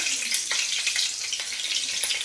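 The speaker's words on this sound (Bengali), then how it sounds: "এখানে কাঁচা লঙ্কা আর 5 ফোড়নটা একটু ভাজা ভাজা হয়ে যায়" Panch phoron spices and green chillies crackle in hot oil, a dense, bright, continuous sizzle with small popping bursts, close up and unbroken for a couple of seconds.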